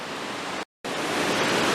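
Water flows along a clear creek in a rushing, steady broadband wash, close and continuous, with a brief gap of silence partway through.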